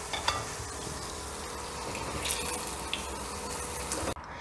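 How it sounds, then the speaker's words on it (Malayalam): Banana sticks deep frying in hot oil, a steady close bubbling sizzle with small crackles, cut off sharply near the end. "അപ്പം ഞാൻ ഈ നമ്മളെ ലാസ്റ്റ് ട്രിപ്പ് കൂടെ വറുത്ത് കോരിയിട്ടുണ്ട് കേട്ടോ."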